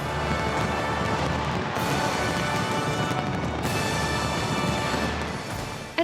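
A large New Year's Eve fireworks display rings in 2025 with dense, continuous crackling and booming bursts that blend into one loud, unbroken wash of noise before a final sharp pop.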